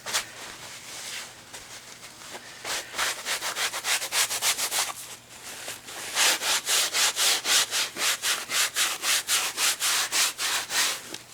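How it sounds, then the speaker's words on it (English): Steady rubbing and sanding strokes scrape loose sand from the edging of an acrylic pour painting laid over plastic sheeting, a rapid rhythmic run of close, fairly loud scratchy passes with no talking. "I think I'm just going to do is try and get as much of the sand as I can get off"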